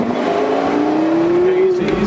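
Porsche Carrera GT engine pulling in second gear, a loud close interior drone with pitch rising steadily as it accelerates, voices talking over it.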